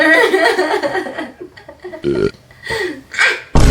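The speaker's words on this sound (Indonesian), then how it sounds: "Emang kebiasaan ke sendawa dikasih ke orang." A woman belches loudly several times in a row, each burp short and throaty with gaps between. Brief chuckling and vocal noises come in between the burps, all close up.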